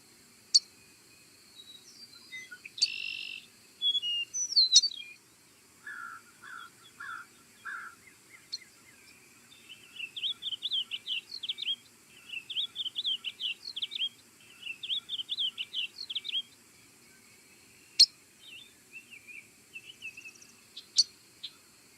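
A blue bird sings outdoors in quiet surroundings, giving a series of short, high chirps and tweets in scattered bursts, with brief pauses between phrases.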